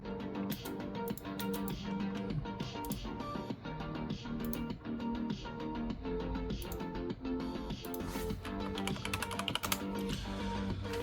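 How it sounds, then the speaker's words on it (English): Rapid keypad typing while grading around a building in Civil 3D, a steady dense clatter of key taps running continuously under a constant layered background, with no voices. "I still use a keypad to actually record input my numbers"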